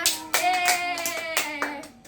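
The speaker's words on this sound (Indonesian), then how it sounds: "Tepuk tangan semuanya." A small group claps along during a children's worship song session, a few sharp, uneven claps over about two seconds, fairly close with some sung tones ringing between them.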